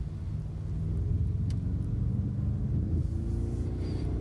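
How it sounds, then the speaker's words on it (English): Inside a 2020 Jaguar XE AWD on a back road, a steady low road and engine rumble drones throughout, fairly quiet and even, with a faint click near the start and no talking. "Just driving down this back road here, show you guys how the handling is on the vehicle"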